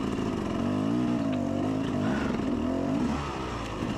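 Dirt bike ridden over rocky terrain, a close, continuous engine drone with rising and falling revs as the rider works through obstacles, loud and steady throughout.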